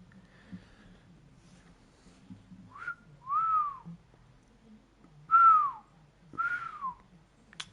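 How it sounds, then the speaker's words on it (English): A person whistles a simple tune in a few short, sliding phrases separated by pauses, close by and clear over a faint low background hum, with no talking. "Gotta work on the whistling, you know."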